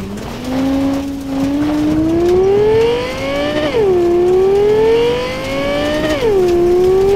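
A stolen car in Cyberpunk 2077 drives fast with a loud, steadily rising engine whine through the gears, dipping at each shift and climbing again, close and alone with no talk.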